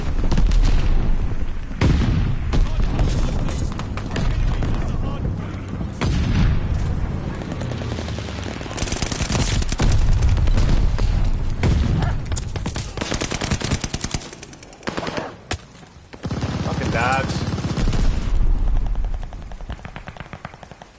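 Shotgun and other weapon fire in the video game Call of Duty: Vanguard keeps going with loud, dense bursts of shots and booming blasts, in almost constant heavy fire with a few brief lulls.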